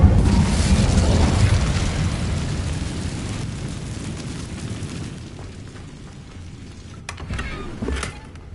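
A loud fiery burst from the Incendio spell in Hogwarts Legacy, a rumbling roar of flame that starts strong and slowly fades, followed by a couple of faint pops near the end.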